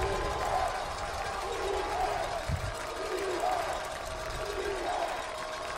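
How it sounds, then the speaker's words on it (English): A football stadium crowd at a high school playoff game roars in a steady, distant wash of cheering, with rising chant-like swells and a commentator's voice running over it. "Edgewood's crowd's coming alive now"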